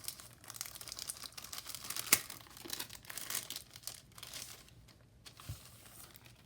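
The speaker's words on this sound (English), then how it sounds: "And then we have this little envelope." Crinkling and tearing of a small paper envelope being opened by hand, a quiet series of rustles and rips with a couple of sharper crackles, close up and without speech.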